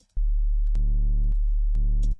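Distorted sub bass synth patch built in Serum, playing three sustained low notes with bright upper harmonics, loud and alone with no voices.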